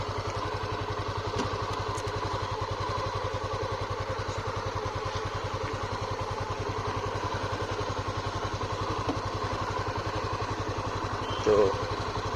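Honda CB300F motorcycle engine while riding, a steady rhythmic mid-pitched thrum with a pulsing exhaust beat held throughout, a brief knock near the end.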